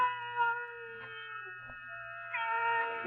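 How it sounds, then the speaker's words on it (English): A cat cries in an old-time radio drama with a drawn-out, wavering meowing wail, sustained and fairly loud against a silent background. "Then the silence was broken by the faint crying of one cat."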